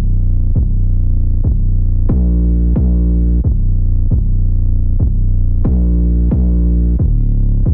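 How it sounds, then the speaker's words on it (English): Aggressive, heavily distorted bass line in a hard-drum FL Studio beat, sustained loud buzzy notes retriggering in a regular rhythm of about a dozen hits, upfront and alone. "I wanted a bass that complements the hard drums, so I went with something kind of aggressive."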